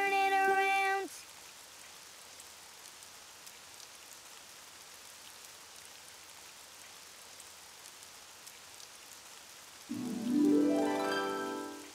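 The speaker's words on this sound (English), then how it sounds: "It's raining outside." Cartoon rain falling outside, a soft, steady hiss of drizzle that runs through the middle, bracketed by brief musical tones at the start and end.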